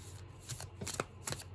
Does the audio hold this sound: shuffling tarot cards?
yes